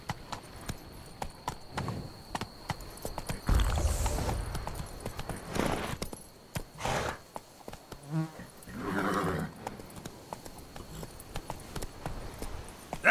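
The horse Roach in The Witcher 3 clip-clops along with hoof beats, mixed with a few louder whooshes and rustling bursts, moderately close and uneven in rhythm.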